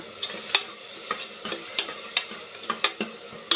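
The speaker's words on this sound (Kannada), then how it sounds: "ಇದೊಂದು ಸ್ವಲ್ಪ ಇದಾಗಲಿ, ಫ್ರೈ ಆಗಲಿ." Masala and curd for egg biryani being stirred and fried in a pan, a spoon scraping in irregular sharp strokes over a light, steady sizzle, close and fairly quiet, with no talking.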